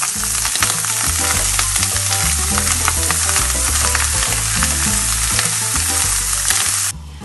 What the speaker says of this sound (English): I'm just gonna toss these over in the frying pan